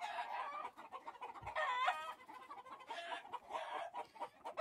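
Laying hens and roosters on a farm in the Chihuahua sierra, a noisy flock clucking and squawking in overlapping bursts, with one rising crow-like call in the middle, moderately distant.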